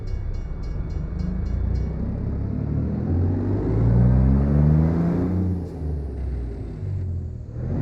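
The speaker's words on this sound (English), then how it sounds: "wait for the train to get by" Train passing in the American Truck Simulator video game, a deep rumbling clatter that builds to a peak midway and then eases, with a brief high chiming tone early on and no talk.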